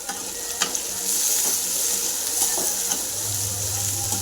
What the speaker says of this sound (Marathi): तळून जाणार कांदा टमाटर